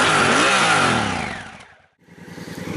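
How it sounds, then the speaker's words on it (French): A 2016 Honda Africa Twin 1000 CRF engine revs loudly up close, fades briefly to near silence, then settles into a steady, throbbing idle. "Ça fait un joli petit bruit, hein, un bruit de monocylindre."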